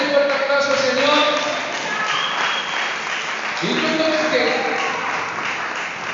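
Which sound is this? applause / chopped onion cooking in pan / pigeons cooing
applause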